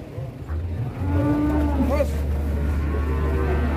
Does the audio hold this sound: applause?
no